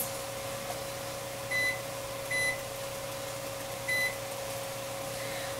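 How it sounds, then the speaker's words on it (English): A kitchen timer being set for 30 minutes gives three short beeps, spaced apart over a steady appliance hum and a constant tone, with no one talking. "Another thing I'm going to do is set my timer for 30 minutes."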